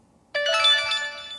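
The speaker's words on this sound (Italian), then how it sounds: "scusate il cellulare che suona" A mobile phone ringtone starts abruptly and plays a bright melodic tune at a steady level, heard clearly with no talking over it.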